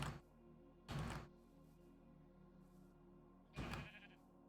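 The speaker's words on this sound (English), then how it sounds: "Hello, sheep." Three short sheep bleats from Minecraft, loud and close, come at uneven intervals over a faint background hum, with a quiet pause between the second and third.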